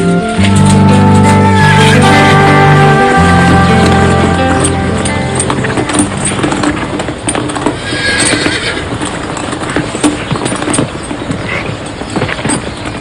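A horse whinnies loudly near the start, then hooves clip-clop in a steady running rhythm on hard ground for the rest of the stretch, close and prominent.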